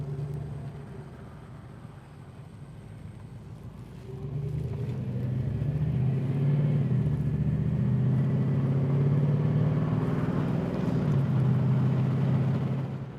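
A 1948 Chevy Fleetmaster coupe resto-mod idles, then its engine swells into a steady, close, rumbling drone as it drives and turns, holding loud and even until it tapers slightly at the end.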